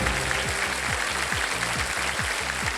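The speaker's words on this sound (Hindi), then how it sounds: "सबसे पहले जो ताली बजी वो उधर से बजी है" A studio audience on a TV quiz show claps steadily in loud, sustained applause. Faint rising and falling music tones play underneath.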